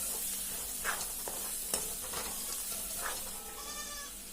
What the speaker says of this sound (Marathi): थोडा हिंग घातला, थोडा वेळ परतून घेते